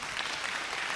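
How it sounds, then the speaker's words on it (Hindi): A studio audience at a Holi poetry gathering gives brief, dense applause in one short, even burst. "जोरदार तालियां सुनील भाई के लिए।"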